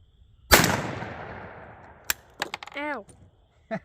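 A Stevens 301 Turkey .410 gauge shotgun fires one loud, sharp shot at a target about 20 yards off, and the blast decays into a long ringing tail. A person speaks briefly afterward.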